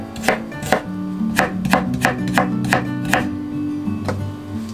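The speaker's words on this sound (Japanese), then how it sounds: "さらに横に並べて重ね千切りにしましょう。 なお今回は包丁で切っていますが、" A kitchen knife julienning carrots into thin strips with a crisp, evenly spaced series of chopping strikes. The rhythm is steady, close and distinct, with about a dozen cuts and no talking.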